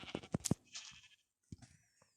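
A couple of short, nasal sheep bleats with Minecraft sound effects around them, close and clear, followed by a brief pause and another bleat.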